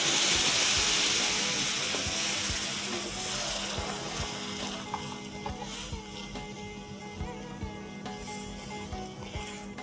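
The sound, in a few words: pouring 1 litre of milk into roasted samvat rice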